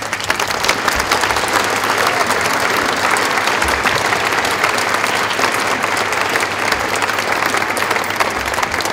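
Loud, sustained applause from a large audience at the official opening of a university building, thick uninterrupted clapping that stays even in strength from start to finish.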